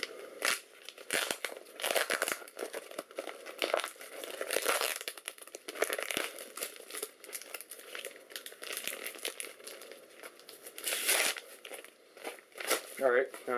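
Packing tape is peeled and ripped off the shipping box of a Sager M57a laptop, making continuous crinkling and tearing noises in close, uneven bursts, with a voice talking underneath.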